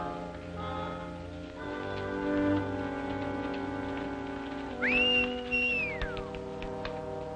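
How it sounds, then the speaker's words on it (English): A rising, sustained whistle for a horse, with a slight warble, repeated twice in quick succession, stands out over steady rain-like background noise and low hum in a 1939 western film. "Stop whistling for that horse."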